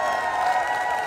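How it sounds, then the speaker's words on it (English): Crowd applauding at a large protest rally at the Washington Monument, a dense steady wash of clapping and cheering from many people. "Give yourselves a round of applause."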